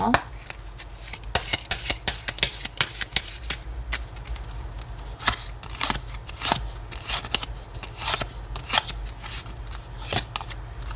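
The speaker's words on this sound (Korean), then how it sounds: "한 번만 더 셔플 할게요" Tarot cards being shuffled by hand in a quick, irregular series of crisp riffling snaps and slaps, close up, with no voice over them.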